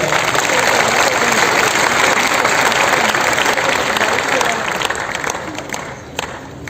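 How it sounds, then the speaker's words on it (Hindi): An indoor seminar audience applauds: dense, sustained clapping from a large crowd that stays loud for several seconds, then gradually thins and fades, with a few scattered claps at the end. "एक बार तालियां बजा सकते हैं अपने लिए"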